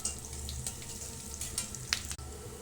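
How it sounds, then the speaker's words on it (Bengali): Onions and green chillies fry in a wok on the stove with a soft, steady sizzle and occasional faint clicks, heard close but quiet with no talking. "সব পেঁয়াজ কাঁচামরিচ ভাজতেছি।"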